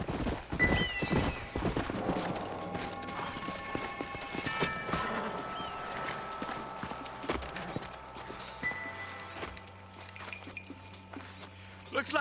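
Horses in the Western video game Red Dead Redemption trot with steady clip-clopping hooves and a whinny, mixed with game music and characters talking over the riding.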